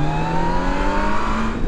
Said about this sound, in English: you drop the gear, smash the revs up